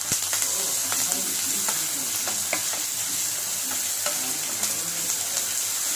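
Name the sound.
frying ginger garlic paste in oil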